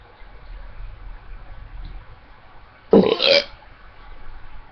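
A single loud, deep human burp erupts about halfway through, rough and gurgling for roughly half a second, standing out sharply against quiet room noise before and after.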